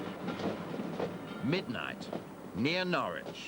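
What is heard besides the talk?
electrification works train moving near Norwich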